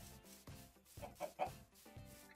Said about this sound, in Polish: Te kury niech se tu lotają.